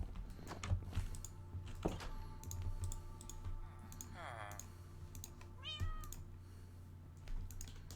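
A cat meows repeatedly during a Minecraft stream, several distinct whiny cries rising and falling over a background of computer keyboard typing and clicks, with no talk.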